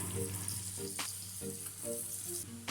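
Chopped vegetables for masala macaroni sauté over a medium flame, a gentle steady frying hiss with occasional stirring swishes under background music.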